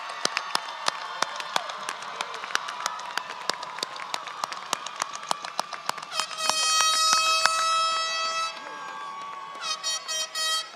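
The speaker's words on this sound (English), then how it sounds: "Let's give them a round of applause." Scattered clapping from a crowd at a high school graduation ceremony, crisp individual claps, then a loud horn-like blast of sustained tones joins near the end.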